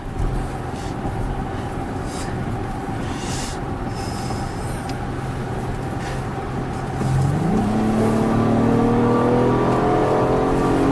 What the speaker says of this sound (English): when you get the RPMs up, it just that VTEC Kicks in and it just takes off